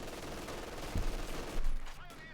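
Rapid bursts of infantry gunfire from a Company of Heroes 2 battle between Wehrmacht and US forces, with Pathfinders and Osttruppen trading dense, continuous shots and a few heavier booms near the end.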